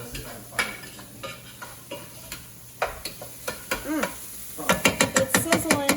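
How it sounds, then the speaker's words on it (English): Diced apples with rosemary sizzle in a hot pan while being stirred, a steady frying hiss broken by repeated scraping clacks of the utensil that grow denser and louder toward the end. "It's sizzling."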